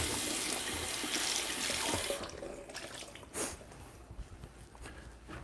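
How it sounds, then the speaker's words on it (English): Tap water runs steadily into a sink while coffee grinder dosing cups are rinsed under it. The flow then cuts off, leaving scattered drips and small handling clatters. "let me wash the dosing cups here"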